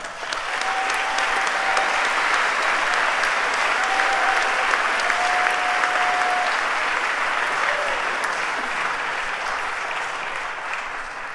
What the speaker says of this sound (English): I would like to ask you to give us a round of applause for Tom and for Nell.